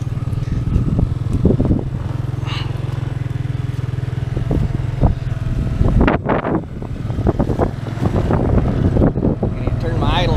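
A four-wheeler ATV idles nearby on a field during soil sampling, its engine holding a steady low hum beneath gusty wind noise and someone talking.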